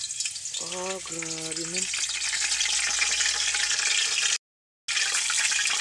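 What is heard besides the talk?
jackfruit leaves frying in a pan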